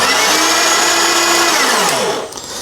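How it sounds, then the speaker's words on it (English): An empty coffee grinder with no beans inside spins loudly and steadily with a high, hollow whine, then winds down and stops near the end. "that's the noise of the grinder not actually having any coffee beans in it"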